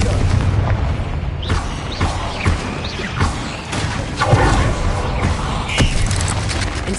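Confringo fire-blast spells cast in Hogwarts Legacy on PS5, a series of sharp explosive booms and crashes going off in irregular bursts, several hits in quick succession over rumbling background.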